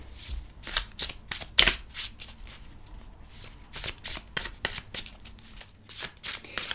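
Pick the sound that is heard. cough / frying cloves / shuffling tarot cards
shuffling tarot cards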